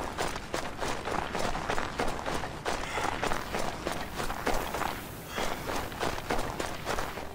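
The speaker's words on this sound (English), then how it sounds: "the sound effect used when walking on snow is so satisfying." Footsteps crunch on snow in the video game Assassin's Creed Odyssey, a steady rapid rhythm of soft, crisp steps at a jogging pace, continuous and close without talking.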